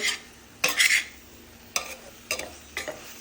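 Green chilli pickle stirred in a pan, with four separate scraping strokes of a spoon against the metal over a faint background hiss, close and fairly quiet, no talking.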